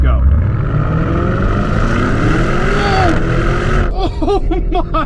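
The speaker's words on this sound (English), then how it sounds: "let's go ahead and launch the Urus and see what happens" A Lamborghini Urus roars with a loud, sustained engine note that rises in pitch as it launches and accelerates hard, then breaks off into a sudden shout from inside the car.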